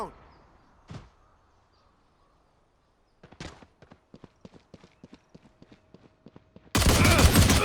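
Gunfire from a gun in the Valorant video game: after a quiet stretch with a couple of isolated thumps, a quick, evenly spaced string of sharp shots rattles out, then a loud burst of noise.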